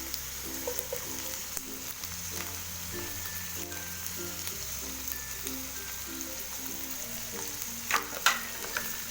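Carrots frying in a pan for Chinese-style chicken and vegetable fried rice give a soft, steady sizzle under faint background music, with a couple of brief clinks near the end.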